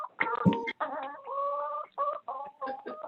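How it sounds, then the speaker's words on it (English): Chickens cluck and squawk close by in a continuous run of calls with short breaks between them, and no voices are heard. "there are chickens"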